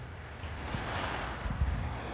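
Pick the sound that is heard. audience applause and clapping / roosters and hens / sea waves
sea waves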